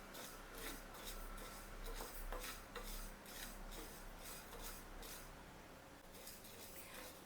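Moong dal and sago roasting together in a pan over low heat, stirred steadily with a spoon, giving a continuous dry scraping and rasping texture with a few sharper scrapes, close up and without talk.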